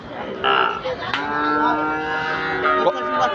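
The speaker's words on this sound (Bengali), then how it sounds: "খুব চঞ্চল গরুটি।" A five-month-old Sahiwal bull calf at a cattle market gives one long, loud, close moo that rises and holds before trailing off.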